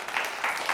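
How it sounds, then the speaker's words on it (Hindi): Brief scattered clapping rises from the audience at a Hindi comedy poetry gathering, a short, moderately loud burst of applause with no talking over it. "तालियां बजाएं आप लोग"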